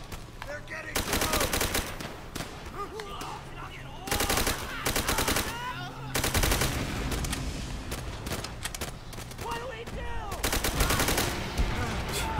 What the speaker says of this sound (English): Just shooting a bunch of barrels too.